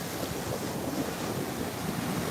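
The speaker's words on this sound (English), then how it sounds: "Look at those waves. These are surfing waves." Ocean surf rolls in at Juno Beach, Florida, as a steady, wash-like roar mixed with wind buffeting the microphone, with no voices.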